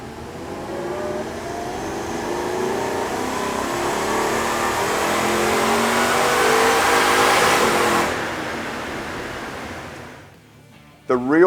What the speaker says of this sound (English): Running it up repeatedly on the dyno